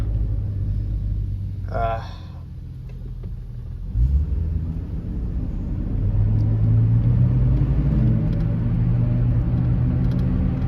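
Chevrolet Trailblazer driving after a throttle body repair, with a low engine rumble and road noise that swells as it accelerates midway, recorded from inside the car along with a brief voice early on.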